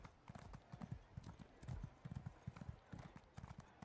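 A horse's hooves clip-clop in a steady, fast trotting rhythm in the Elder Scrolls Online video game, with continuous quick thuds set against soft background ambience.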